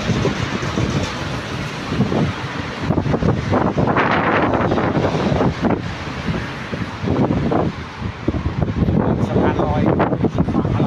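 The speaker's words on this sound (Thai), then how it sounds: "ลมเย็นมาก" Strong cold wind buffets the microphone outdoors at a roadside checkpoint, giving a loud, continuous rumbling roar with gusting surges throughout.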